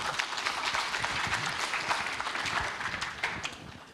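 An audience at a university entrepreneurial fair claps in a steady round of applause that swells briefly and then thins out toward the end, heard fairly close.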